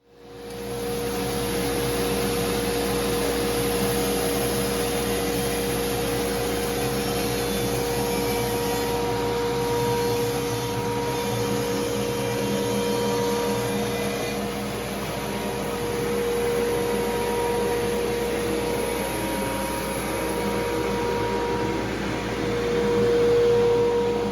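A bandsaw resaws an oak board while a dust collector runs, giving a loud, continuous mechanical roar with a steady whine that holds nearly unchanged throughout.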